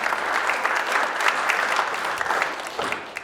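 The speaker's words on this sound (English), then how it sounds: "let's give her a round of applause" An audience applauds a presenter at a talk about a Door County clothing retailer, giving a steady, close round of clapping from a crowd that lasts throughout.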